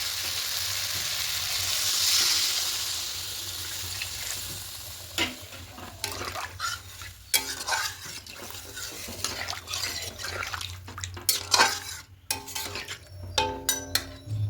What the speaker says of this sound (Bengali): এবার এখানে জলটা অ্যাড করবো।